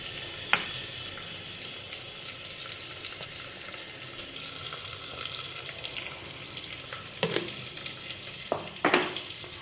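Onions fry with a pinch of salt in a pan for mutton biryani, a soft, steady sizzle under a quiet room, broken by a few sharp clinks and stirring knocks toward the end.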